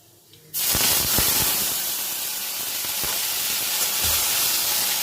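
Dried red chilies and nigella seeds hit hot mustard oil with a sudden loud sizzle that settles into a steady, hissing fry, close and continuous with occasional crackles.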